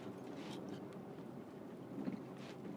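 Strong Storm Eunice wind roars steadily outdoors, a dense, continuous rush buffeting the microphone with slight gusting swells and no voices.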